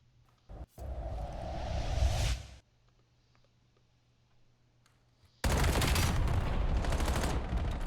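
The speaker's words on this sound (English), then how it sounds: "Opening flurry of bullets go across the map" Gunfire erupting at the start of a competitive video game match, dense bursts of rapid shots in two loud stretches separated by a quiet gap, continuous automatic fire without talking.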